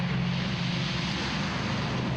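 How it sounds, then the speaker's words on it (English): A Lockheed Constellation C-121A's piston engines roar during takeoff at the EAA AirVenture 2023 airshow, a steady loud droning hum with a strong low tone, heard outdoors without speech. "C-121A taking off. Let's listen to the engine and see this thing fly."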